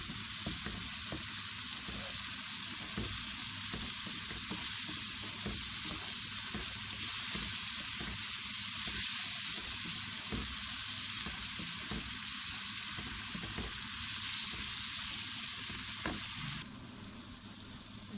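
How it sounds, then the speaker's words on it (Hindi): Garlic and onion fry in a pan with an unbroken, dense sizzling hiss and faint crackles running steadily for a long stretch, easing slightly near the end. "लहसुन और प्याज हमारे फ्राई हो चुके हैं"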